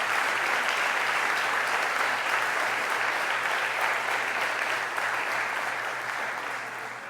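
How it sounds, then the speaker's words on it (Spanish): An audience applauding at an anniversary celebration for a journalism program, sustained full clapping that stays loud and even throughout, fading slightly toward the end. "un aplauso para Carlos Fernando Chamorro y su equipo en este aniversario"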